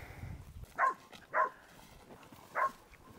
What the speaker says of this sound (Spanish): Por eso es bueno tener perros en el rancho, escuchan a Bellota. Tiene ladre y ladre hace como una media hora.